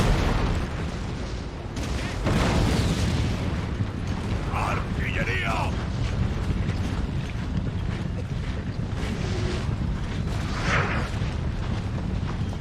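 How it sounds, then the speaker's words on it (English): Artillery cannon fire in a Napoleon: Total War battle, with distant booming shots rumbling under steady wind-like battlefield ambience and someone talking over it. "A bit of an artillery duel going on."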